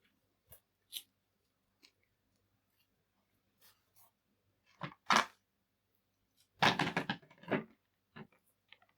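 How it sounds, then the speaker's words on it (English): Scissors make a few sharp snips as they cut fabric ribbons off a lampshade, with short crisp cuts and a quick cluster of clipping and rustling near the end. "So let me just snip those off."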